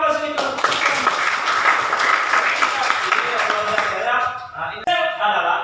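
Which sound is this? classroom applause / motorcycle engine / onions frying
classroom applause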